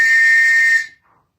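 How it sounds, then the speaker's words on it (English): A Scottish police whistle gives one shrill, steady blast lasting under a second, loud and close, then cuts off abruptly into silence. "my Scotland police whistle."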